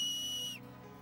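A shrill, sustained fingers-in-mouth whistle from Final Fantasy X sounds loud and clear for about half a second, then slides down in pitch and cuts off into quiet game ambience.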